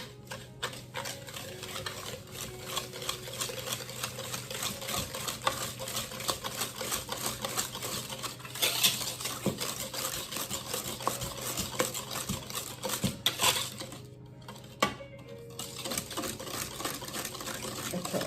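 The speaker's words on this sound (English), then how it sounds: "I'm gonna mix this together." Carrot cupcake batter for a Jamaican-style recipe being mixed in a bowl makes rapid, continuous rhythmic tapping and scraping of a utensil, close and steady throughout, with no voices.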